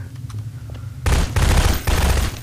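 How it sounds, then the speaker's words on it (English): Gunfire in Garry's Mod Prop Hunt: after a quiet lead-in, loud bursts of shots crack out in quick succession, a brief pause, then another burst, close and dominant. "Just stop shooting me."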